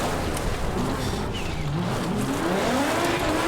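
Mikkola's Audi Sport Quattro Group B rally car replica from the 1986 Welsh Rally, driven in the Richard Burns Rally video game, its engine note rising and falling continuously and loudly alongside tyre noise, with no voices.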